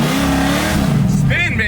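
A 1965 Ford Mustang engine revs hard up through third gear, a loud, close, rising roar with a brief lift near the end, while someone talks excitedly over it.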